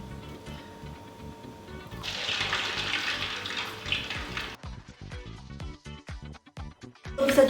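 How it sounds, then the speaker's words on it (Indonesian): Tofu batagor frying in hot oil, a dense sizzling hiss that swells after a couple of seconds and then breaks into sharp crackles and pops toward the end. "Terus kita goreng."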